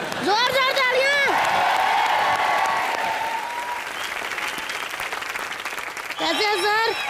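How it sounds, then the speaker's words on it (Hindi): Studio audience at a live comedy television show applauding loudly for several seconds, with whoops and cheers mixed in and a voice or music-like tones rising at the start and end. "जोर जोर तालियां"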